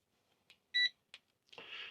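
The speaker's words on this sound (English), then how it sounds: "This is a propane sniffer." A handheld propane sniffer gas detector used for checking RV heater connections gives short electronic beeps, including one loud steady tone, then a burst of hissing noise toward the end.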